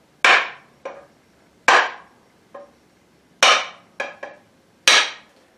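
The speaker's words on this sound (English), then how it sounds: "you're just going to hit the end of your handle" A hammer strikes the end of an axe handle during an axe restoration, seven sharp metallic knocks with ringing decay, irregularly spaced across several seconds, loud and close with no talking.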